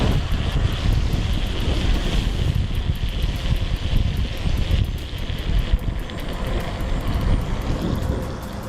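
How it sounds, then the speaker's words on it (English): Ninebot Z10 electric unicycle splashing through water, heard as a steady rushing wash of spray and wind buffeting the microphone, loud and continuous with small surges, no talking. "I just never get tired of splash tests."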